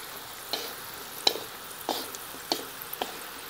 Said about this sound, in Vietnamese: Mình chiên hai lần để cho nó giòn nha các bạn nha.